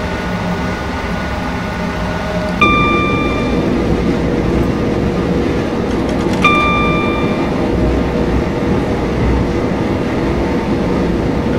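Continuous low rumble of a 12-car Class 377 electric commuter train in motion in Train Simulator 2019, with two brief high tones sounding a few seconds apart over the steady drone.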